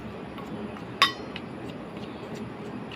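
A spoon stirs gram flour and wheat flour together in a small bowl, giving one sharp metallic clink against a soft background, followed by faint quiet scraping.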